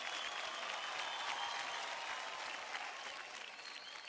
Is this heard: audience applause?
yes